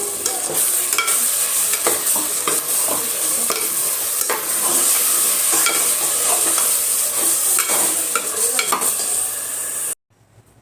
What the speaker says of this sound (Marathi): तर हे वाटण ह्याच्यात टाकून द्यायचं, कांदा आणि टोमॅटोचं वाटण आहे.